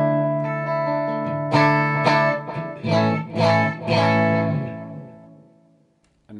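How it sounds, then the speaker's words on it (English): Clean electric guitar plays a few sustained chords and picked notes, bright and close, with each strum ringing out and decaying into near silence at the end. "First, here's my clean sound."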